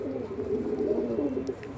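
Pigeons cooing close by, a steady low throaty warble that runs without a break under faint background noise.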